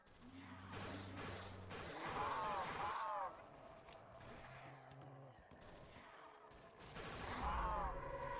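Gunfire from the P-Chan weapon in the Roblox game Project Lazarus, a loud run of rapid shots over about eight seconds with short pauses between bursts, alongside steady in-game noise.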